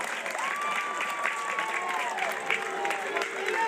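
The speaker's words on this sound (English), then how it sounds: "And no, the crowd is not booing." A softball game crowd cheers in a long, sustained, drawn-out roar that sounds almost like booing, spread wide and steady, with an announcer talking over it.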